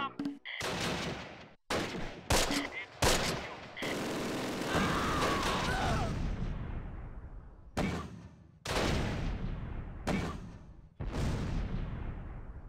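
MG34 machine gun fire in the Close Combat war game comes in several sharp, loud bursts, separated by short gaps and trailing echoes.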